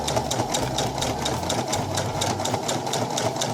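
Close, continuous whir of a sewing machine with a rolled hem attachment running through knit fabric on a prom dress hem, its rapid needle strokes beating in a steady rhythm throughout.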